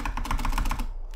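Rapid computer keyboard typing during play of Serious Sam: The First Encounter (Classic), about ten crisp close keystrokes in a quick run before the sound stops abruptly.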